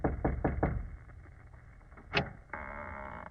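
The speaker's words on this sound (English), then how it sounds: "Go on, Watson, knock." Several sharp knocks on a wooden door open a radio drama scene, four quick raps close together followed by a short pause and a brief tonal squeak, then a steady hum of room tone.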